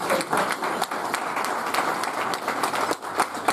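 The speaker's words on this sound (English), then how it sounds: "For that, guys, give yourself a round of applause." Applause fills the room at a cricket club awards night, a steady, moderately distant patter of many hands with scattered sharper claps standing out, continuing without a break.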